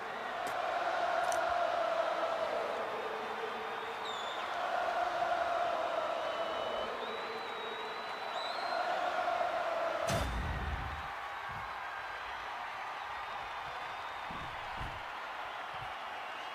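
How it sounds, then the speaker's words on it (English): In the WWE 2K25 wrestling video game, a large arena crowd chants Seth Rollins' entrance song in rising and falling waves, followed by a sharp thud and then a quieter crowd murmur. "they are singing Rollins' song"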